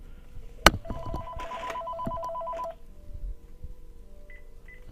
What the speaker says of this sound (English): And the phone rings again while I'm explaining badges.